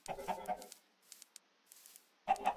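Soft game chickens clucking in brief bursts, a cluster at the start, faint ticks in the middle and another clear cluck at the end, quiet and close.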